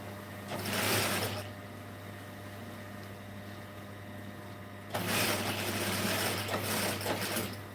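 A sewing machine stitches along the folded edge of a blouse, giving two bursts of fast, rattling mechanical whirring, one early and one longer near the end, separated by a quieter hum with no talk.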